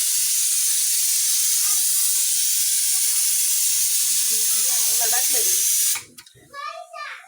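A loud, steady hiss of escaping steam from a pressure cooker whistle runs for several seconds, then cuts off abruptly, followed by a few quieter clinks and a voice.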